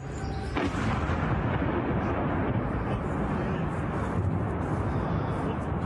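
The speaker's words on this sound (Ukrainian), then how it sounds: "Довкола чути вибухи, зіймається густий стовп диму." Heavy explosions rumble in a continuous, loud roar, with a sharp blast near the start followed by sustained booming, from a drone strike on a research plant in Redkino, Tver region, Russia.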